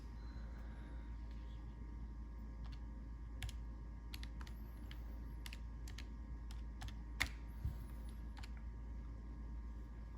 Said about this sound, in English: Let me type that in and see what number that is.